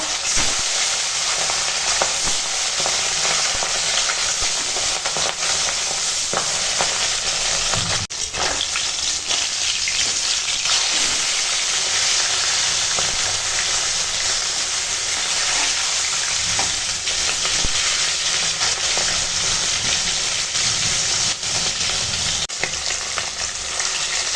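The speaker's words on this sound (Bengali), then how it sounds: "মাছ ভাজবো তেল গরম হয়ে গেছে আর মাছ ভেজে নেবো" Hot oil sizzles and crackles steadily and loudly as rohu fish rubbed with salt and turmeric fries, a dense continuous frying hiss with occasional sharper pops, close by.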